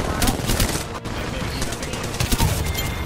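Rapid, loud video game gunfire rattles in a continuous fusillade of automatic shots, dense and close, with a player's voice briefly mixed in.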